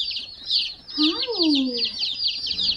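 Baby chicks on a homestead give dense, continuous high peeping and chirping throughout, close by, while a person speaks softly over them.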